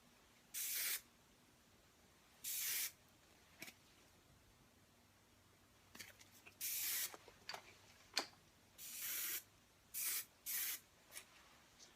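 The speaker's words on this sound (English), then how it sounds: "I like to help and just spray those down." Hairspray hisses out in about ten short, sharp spritzes at irregular intervals, each a second or less, close to the mic with quiet gaps between.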